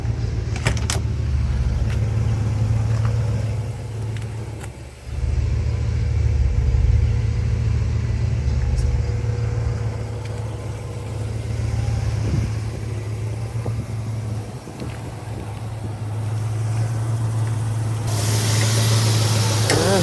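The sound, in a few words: 1963 Chevrolet Nova SS 327 engine running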